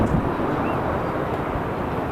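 Spirit Airlines jet flying past at LAX airport bound for Las Vegas: a steady, broadband engine roar that holds at an even level throughout, heard alone with no talk.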